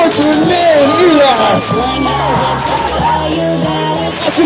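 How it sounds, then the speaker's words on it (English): Wedding reception guests whooping, yelling and cheering loudly as a crowd during the garter tradition, a continuous close roar of excited voices. "Let's give a big round of applause"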